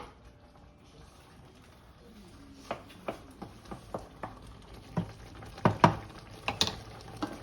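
Sardine balls cooking in a pan give off soft frying crackles and pops that grow more frequent and louder toward the end, heard close by with no one talking.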